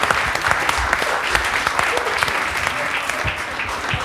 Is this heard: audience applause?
yes